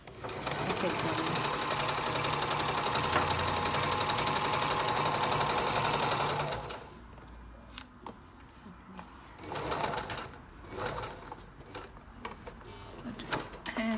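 A sewing machine stitches the side seam of a jacket in a fast, even, loud run of needle clatter lasting several seconds, then stops, and someone talks afterward.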